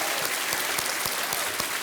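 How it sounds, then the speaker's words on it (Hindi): A television studio audience claps loudly for Shah Rukh Khan and Katrina Kaif on Kaun Banega Crorepati; dense, steady, close applause filling the whole moment, with no talk on top. "शाहरुख खान, कटरीना कैफ, इनके लिए हम बहुत जोर से तालियां बजाएंगे।"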